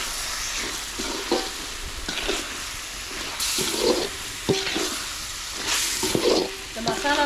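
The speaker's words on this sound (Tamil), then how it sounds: "சேர்த்து நல்லா கலந்து விட்டுடலாம்" Chicken and ground masala are stirred and sautéed in hot oil in a home kitchen for a curry feast, a steady close sizzle broken by repeated scraping stirs of a spoon through the pan.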